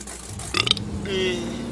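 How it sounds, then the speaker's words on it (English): A single person burps partway through, a short throaty sound rising over steady background noise from the Spintires off-road truck driving game. "God, burp."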